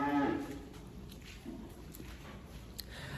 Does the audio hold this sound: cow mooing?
yes